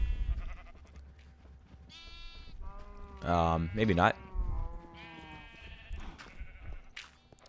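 Sheep bleat in a farming video game. A few wavering, nasal bleats rise clearly in the middle while someone talks quietly around them.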